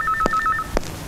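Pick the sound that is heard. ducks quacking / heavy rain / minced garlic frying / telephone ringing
telephone ringing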